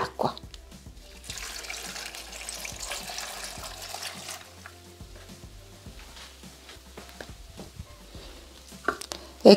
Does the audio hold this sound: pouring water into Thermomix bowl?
yes